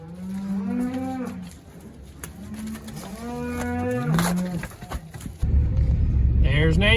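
Cattle, cows and calves penned in a farm alley, low drawn-out moos repeating one after another at close range, with a vehicle rumbling underneath toward the end.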